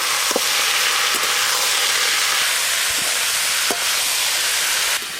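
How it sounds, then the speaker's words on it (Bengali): Potato pieces and boiled taro fry together in a wok with a constant loud hiss and sizzle, a few sharp clinks of a utensil against the pan, and steady sound throughout. "আলু আর ফেরো কচু একসঙ্গে একটু ভাজা ভাজা হয়ে গেছে।"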